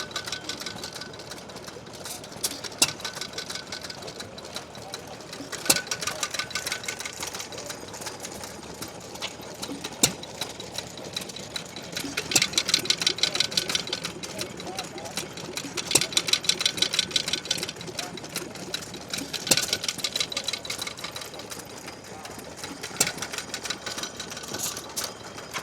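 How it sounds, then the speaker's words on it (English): Vintage Monitor stationary engine of one and a half horsepower running at an engine rally, a steady rapid ticking and clattering beat with periodic louder bursts, heard amid outdoor background noise. "Nice little monitor engine."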